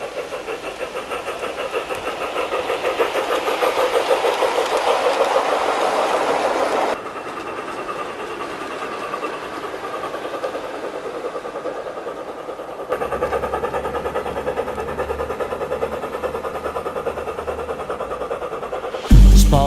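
Steam engine Thomas hauling a heavy quarry train, a steady rumbling, clattering run with wagons rolling along rails, louder and closer at first, then easing, with a sharp jolt at the very end.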